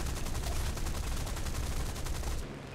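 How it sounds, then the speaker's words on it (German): Dense, continuous automatic fire roars through a War Thunder planes-and-tanks deathmatch, loud and close, with rapid shots blurring together almost to the end before cutting off. "Please, einmal noch schießen."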